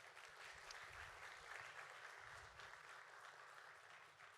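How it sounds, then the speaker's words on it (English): Audience at a school board meeting clapping in a steady, sustained round of applause, moderately loud and filling the room, with no speech over it. "Let's give them one more round of applause."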